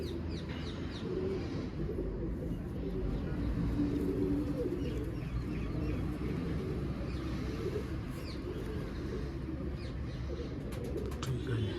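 Low, steady pigeon cooing throughout, soft and continuous, with faint chirps from other birds in the background.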